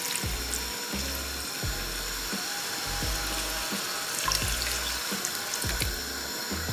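Water poured into a pan of frying honey garlic chicken, a steady hissing splash and sizzle with faint clinks and low thumps underneath, continuous and close, no voices.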